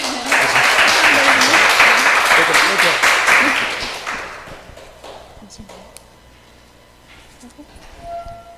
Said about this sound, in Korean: 과감한 박수